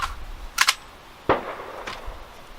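A GSG-15 .22LR rifle fires Blazer ammunition outdoors with two sharp, close shots spaced under a second apart. A fainter crack or echo follows each report.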